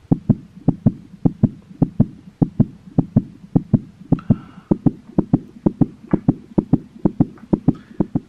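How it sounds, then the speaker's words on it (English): Heartbeat sound effect used as music, a steady run of evenly spaced low thumps repeating in a regular rhythm throughout, clear and upfront with no talking. "this is where you put the heartbeat music"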